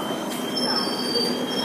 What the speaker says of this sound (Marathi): सांगलीकडे जाणारी रेल्वे आली आहे.